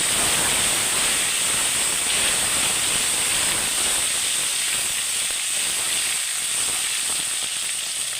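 Chopped tomato and green chillies frying in hot oil in a pan, giving a steady, loud, hissing sizzle that carries on without a break.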